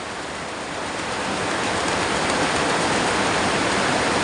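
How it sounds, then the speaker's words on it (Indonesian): Steady rain pours down in a dense, unbroken hiss that swells slightly over the first second and then holds loud and even, with no voices. "hari hujan di tempat aku."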